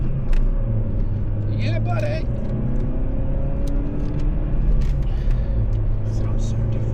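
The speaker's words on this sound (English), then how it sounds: "that little Z-Tech engine is ramming itself away" Small Z-Tec petrol engine in an older car hums and revs steadily from inside the cabin, a constant close drone with road rumble, while someone speaks briefly.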